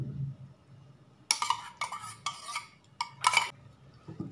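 Raw prawns are worked by hand or spoon into a mustard and poppy seed paste in a bowl, giving several short wet squelching, scraping bursts separated by brief quiet gaps, close up.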